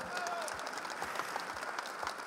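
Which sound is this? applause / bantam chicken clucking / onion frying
applause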